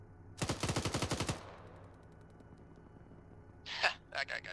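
A loud, rapid burst of automatic machine-gun fire in the military game Arma, about a dozen shots in quick rhythm, then a fading tail, followed later by a short voice over radio-like chatter.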